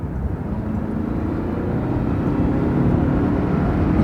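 A car drives at speed on a road test, the engine drone and road rumble rising gradually and steadily, loud and close from inside the cabin, with no talk.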